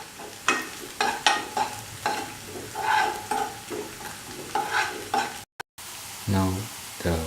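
Shallots frying in a pan for a ginger stew, with repeated scraping stir strokes over a steady sizzle, close and fairly loud, broken by a brief gap near the end.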